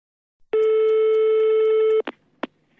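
A telephone line tone, one long steady electronic beep of about a second and a half, then two short clicks as the handset is picked up, close and clear with no talk.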